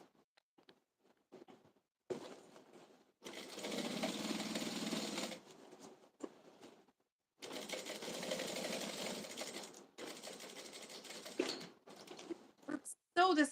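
An electric sewing machine stitches a plush toy in several distinct whirring runs of one to two seconds, with short pauses and faint handling sounds between them.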